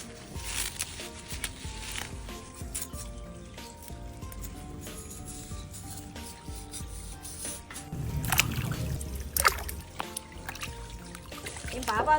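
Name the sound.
washing mushrooms in water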